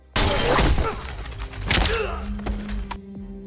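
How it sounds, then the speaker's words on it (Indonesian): Gunfire in a scene from the action series Taken season 2, sharp loud bangs and a shattering crash followed by clattering debris and thuds, then a lingering hum, no talk. "ternyata itu adalah tembakan dari Santana"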